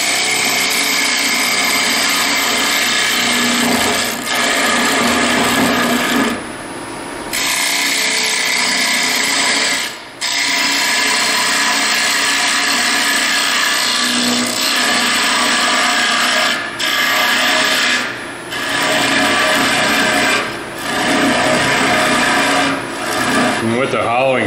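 A carbide hollowing tool cuts into wood spinning on a lathe, giving a loud, steady rasping scrape with brief dips as the cut pauses, and no chatter.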